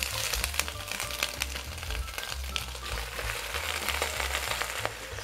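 Steady frying sizzle of spinach in a pan, dense crackling hiss with a low rumble underneath, continuous and fairly close, no voices.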